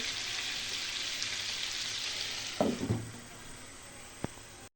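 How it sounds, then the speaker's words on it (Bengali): Chicken pieces frying in a pan for tandoori biryani make a steady, soft hiss of oil, broken near the end by a brief clatter and one sharp tap. "এখন চিকেনটা ভেজে নিচ্ছি।"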